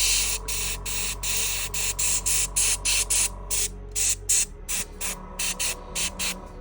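An aerosol can sprays snow texture onto miniature bases in short hissing bursts, about twenty rhythmic sprays, close and loud, with no talk.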